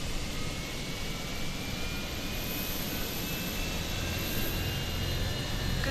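A Boeing 727 taxis in a flight simulator game, its jet engines producing a steady, soft whine and hiss that holds level throughout with no talking.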